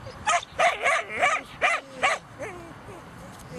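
A dog gives a quick run of short barks and yips during obedience training, close by, then a few softer whimpering whines trail off.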